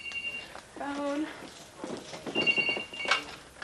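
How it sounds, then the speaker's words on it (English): A telephone rings indoors in a shared house, its bell tones sounding briefly at the start and again later, mixed with people talking and moving around nearby. "Phone."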